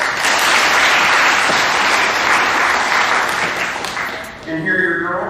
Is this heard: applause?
yes